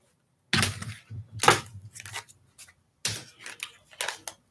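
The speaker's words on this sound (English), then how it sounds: "let's pull you a couple more cards and then I'm done." Tarot cards being pulled from a deck, giving short bursts of papery shuffling and snapping in several separate groups with quiet gaps between them, close and fairly soft, with no talking.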